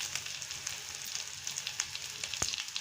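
Pepper chicken masala sautés on a low flame, giving a steady soft sizzle with scattered small pops and one sharp crackle near the end.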